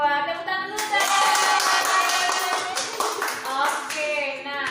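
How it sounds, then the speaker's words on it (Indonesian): Kindergarten children clap their hands during a class lesson, a dense patter of claps running under continuous voices and chatter for several seconds. "Wah, tepuk tangan dulu deh."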